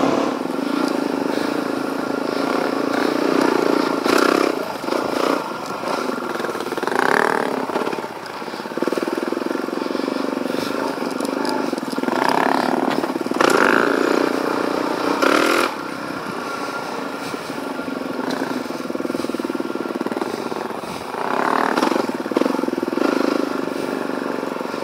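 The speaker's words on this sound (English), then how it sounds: "How good do these exhausts sound" A Suzuki DRZ400 dirt bike runs loudly and steadily on a narrow single-track trail. Its exhaust note rises in several revving surges while the rider moves along, with no talk.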